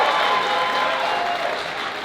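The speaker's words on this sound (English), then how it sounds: "I want to give you a big, big round of applause." Audience at the BlerDCon 2025 convention breaks into sustained, dense applause with crowd noise, a loud continuous wash of clapping filling the whole stretch at steady intensity.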